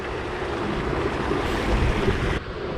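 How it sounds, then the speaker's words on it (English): Strong wind roars steadily across the microphone beside a hidden mountain pond, a dense, continuous rushing with gusts that swell and then drop away near the end; no voices are present. "It's getting way too windy out here to fish the pond."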